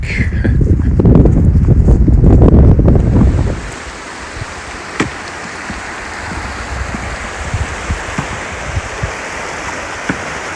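Loud rushing water and wind buffeting dominate at first, then a steady outdoor wash of a mountain creek's flowing water continues with occasional small knocks, in the Crowsnest Pass area of Alberta.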